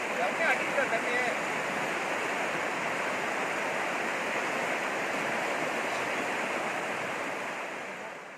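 Floodwater in the Vasishta river after heavy rain rushes in a loud, continuous roar, steady for several seconds before easing slightly at the end.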